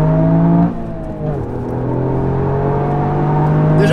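A Toyota Yaris GR Four engine revs steadily at close range, its tone rising and falling through a sustained drone with a brief dip early on.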